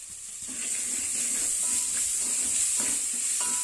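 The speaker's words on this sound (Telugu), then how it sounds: "అల్లం వెల్లుల్లి పేస్ట్ అనేది బాగా ఏగిందండి నూనెలోనే ఫ్రై అయిపోయింది" Ginger garlic paste sizzles steadily in hot oil in a pan, a continuous close frying hiss with light stirring scrapes and clinks now and then.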